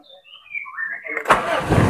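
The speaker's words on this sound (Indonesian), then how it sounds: "Pada saat di start pun dia langsung cekur ya." A 1995 Toyota Great Corolla starts during a used-car inspection. A few faint, thin chirps come first, then the engine catches abruptly and settles into a steady idle close by.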